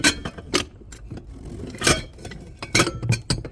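Glass coffee and sugar containers, found discarded in a dumpster in Korea, clink against each other in several sharp, bright knocks spread unevenly through the clip, close by with no talk over them.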